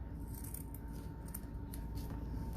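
Scissors snip through ribbon while a bow is being made, with a few short, crisp cuts heard faintly over a steady low room hum.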